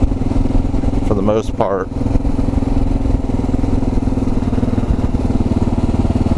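Single-cylinder 650 Kawasaki KLR650 motorcycle from 2022 idling close by with a steady, loud thumping rhythm throughout, as someone briefly speaks over it.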